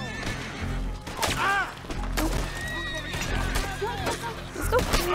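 A horse in Red Dead Redemption 2 whinnies several times over hoofbeats, crashes and a low rumbling game score, with a person talking over the action.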